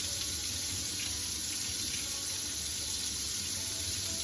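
Water runs continuously from a tap into a sink, a steady broadband hiss and gush with no break and no voices.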